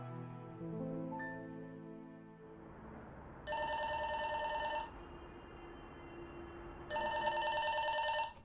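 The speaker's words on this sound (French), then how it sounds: "Maman, téléphone!" A telephone rings in a home, two long electronic ring bursts separated by a pause, fairly faint and heard over quiet background room noise after a fading tone.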